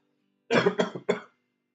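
A person coughs three times in quick succession, close and fairly loud against silence, the second burst breaking into two short hacks.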